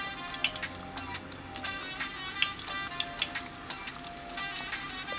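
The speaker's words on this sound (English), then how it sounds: "On medium-high heat, you're going to begin to add your samosas." Vegetable samosas with cabbage filling fry in oil in a skillet over medium-high heat, with a steady close sizzle and scattered crackling pops throughout.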